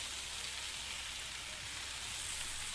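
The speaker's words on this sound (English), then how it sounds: "Ah, the sweet sizzling sound of fried fish" Fried fish sizzling in a pan during cooking in the game Venba, a steady, close hiss of frying that holds evenly throughout with no speech.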